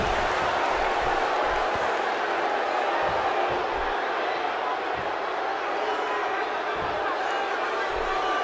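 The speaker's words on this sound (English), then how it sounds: "by the sound of this crowd, I think they're getting what they wanted" An arena crowd in the wrestling game WWE 2K16 roars in a dense, continuous wall of cheering with scattered thuds underneath, while a commentator talks over it.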